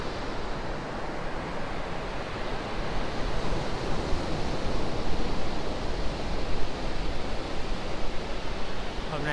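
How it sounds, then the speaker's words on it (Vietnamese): Strong wind and rolling sea waves on a beach in Taiwan make a steady, dense roar with gusty buffeting on the microphone throughout, loud and continuous. "Hôm nay gió cũng khá là mạnh ha."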